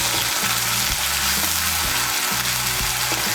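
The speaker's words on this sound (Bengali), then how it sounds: "মিশিয়ে নিয়ে একটু ভেজে নেব।" Ground onion paste frying in oil for a Bengali cauliflower korma: a loud, steady, close sizzle throughout with faint background music, no talking.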